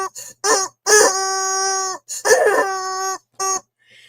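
A cartoonish chicken sound effect, a run of loud clucks and drawn-out squawking crows in short bursts separated by silence, close and clear with no talk.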